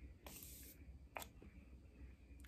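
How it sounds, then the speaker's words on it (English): A spritz of makeup setting spray, one quick faint hiss of mist followed by a second shorter puff, soft and close against quiet background. "I'm going to use a setting spray to just kind of give my face a little hydration"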